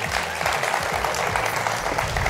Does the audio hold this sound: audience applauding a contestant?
yes